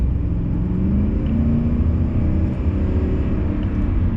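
A 1996 BMW 540i's engine hums and rumbles steadily as the car drives, a loud, continuous low drone heard from inside the cabin.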